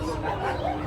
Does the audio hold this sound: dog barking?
yes